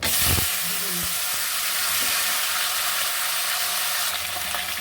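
Potatoes and cauliflower frying together in oil left from fish, a loud continuous hiss and sizzle with a few stirring knocks at the start, heard up close without speech.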